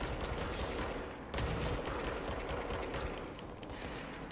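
Weapon fire in the video game Control, dense rapid gunfire running steadily throughout with a short break and restart, loud and close, mixed with mechanical game noise.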